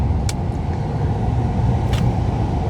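A car driving along a road, heard from inside with a steady, loud low rumble of engine and tyre noise throughout, with a couple of brief faint higher clicks over it.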